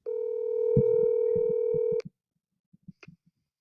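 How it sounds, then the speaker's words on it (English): A steady telephone line tone rings on a call for about two seconds, close and loud, then cuts off, followed by a few faint clicks and muffled thumps. "All right, so let's get Don on the phone."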